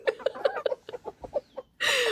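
A tiny rooster clucking up close, a quick series of about ten rhythmic clucks that slow down, followed by a burst of broadband noise at the end.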